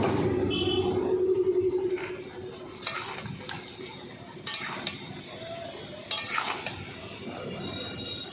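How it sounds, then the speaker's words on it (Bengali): A utensil stirs boiling taro leaves in a cooking pot, scraping and knocking against the metal in three separate short bursts. A steady low hum runs underneath, and no one speaks. "এবার নাড়িয়ে নেব"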